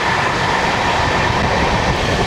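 The 13125 Kolkata–Sairang Express runs at high speed, around 100 to 109 km/h, as a loud, steady rumble and rush of wheels and carriage noise fills the whole stretch, with no talk.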